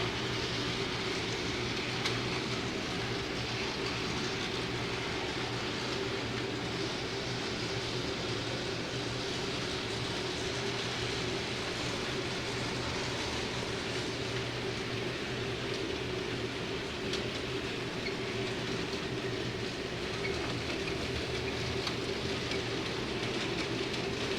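A Reading locomotive running on a model railroad layout during an operating session, a steady, continuous low rumble and whir at moderate distance, unbroken for the whole stretch and with no talk over it.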